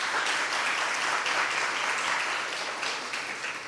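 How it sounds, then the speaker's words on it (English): Audience applause for the judges at a startup showcase event, dense, sustained clapping from a sizable crowd that stays fairly even and tapers slightly toward the end, without speech. "Let's give a round of applause for our judges."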